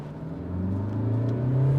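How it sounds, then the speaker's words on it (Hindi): A 2023 Kia Seltos diesel accelerates with traction control switched off, its engine hum rising steadily in pitch and loudness, heard from inside the cabin with no talking. "चलिए अब जरा बात कर लेते हैं ट्रैक्शन कंट्रोल ऑफ करके इसका पिक कैसा है"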